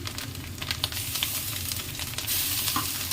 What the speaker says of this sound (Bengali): যে আদা রসুনটা দিয়ে দিয়েছি আদা রসুনটা ভাজা হয়ে একটুখানি ভাজা হয়ে গেছে